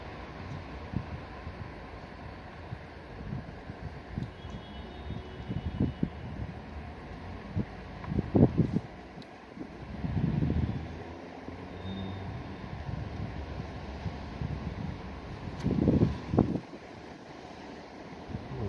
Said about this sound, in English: I'm sorry if you hear too much wind, but it's really windy today